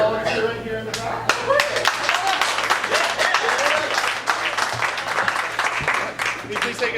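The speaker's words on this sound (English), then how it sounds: "Give them a round of applause." Audience applause greets two young volunteers at a squeaky-clean family-friendly comedy show, a steady dense wash of clapping from a room full of people, with a voice talking over it.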